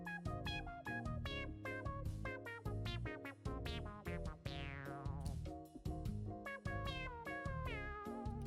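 Cat meows set to music: a quick, rhythmic run of pitched meow notes, tight and punchy, filling the whole stretch like a catchy tune.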